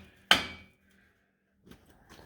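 A hammer hits a Ford Transit brake drum once, a sharp, loud metallic clang with a brief ringing decay. Faint shuffling and handling noises follow.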